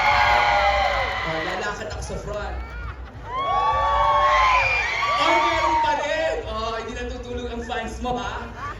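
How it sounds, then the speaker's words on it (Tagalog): Crowd at an outdoor Philippine festival contest in Tokyo's Yoyogi Park shouting, whooping and cheering loudly and continuously, with voices rising in waves alongside a voice over the din. "At hindi tumitigil ang kakasigaw."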